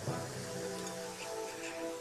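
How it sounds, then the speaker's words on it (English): Rain used as a sound cue in a guess-the-opposite-answers game: a steady wash of falling rain, fairly loud and continuous for about two seconds, with no talking over it. "So this is rain."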